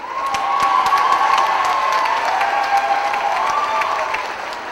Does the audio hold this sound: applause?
yes